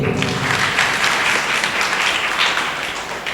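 Church congregation clapping together in a loud, continuous burst of applause that carries evenly from start to finish.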